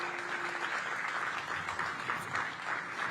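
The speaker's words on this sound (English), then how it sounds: "Give them a big round of applause." An outdoor crowd at a groundbreaking ceremony for a new community retail space claps steadily for about three seconds, a dense, even patter at moderate distance.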